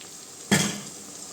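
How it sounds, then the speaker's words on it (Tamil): Ground tomato paste sizzles in a hot pan over softened onions for a mackerel fish curry, a sudden loud burst of frying as it hits the oil that then settles into a steady, quieter crackle. "தக்காளி நல்லா வதங்கட்டுங்க."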